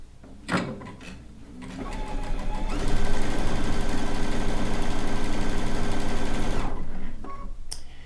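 A sewing machine runs steadily for several seconds, stitching a rag quilt corner to corner, with a brief start and stop at each end and no talk.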